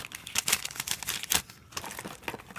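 Plastic or paper packaging for a Mobius ActionCam is cut and torn open close up, with dense crinkling and rustling in uneven bursts and no talking.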